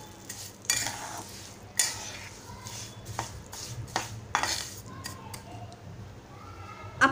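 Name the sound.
stirring and sautéing sheera with sugar in pan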